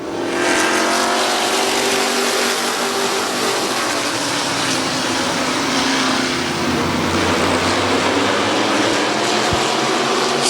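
Race cars roaring around Midvale Speedway, a loud continuous wash of engines from multiple cars, steady and close throughout.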